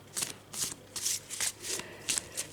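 A Tarocchi del Palio di Siena tarot deck is shuffled by hand in soft, rhythmic riffles, about seven quick papery bursts in steady succession, quiet and close, with no talking.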